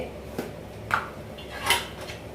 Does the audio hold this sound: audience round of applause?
no